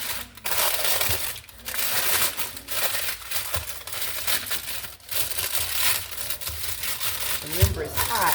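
Baking paper crinkles and crackles up close as a freshly baked sourdough loaf is lifted out of the hot pan, giving a run of dry, irregular rustling bursts.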